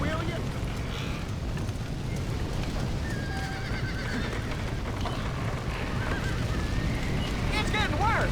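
Horses whinny and hooves clop in Red Dead Redemption, several neighs rising over a busy, continuous din of movement and commotion, with voices talking over parts of it.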